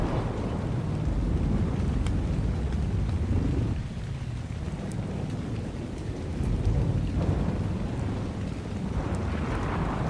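Rain pouring and thunder rumbling during a storm at sea in the game Ark Genesis, a dense, continuous hiss with deep rolling swells and a brief dip midway, fairly loud with no voices.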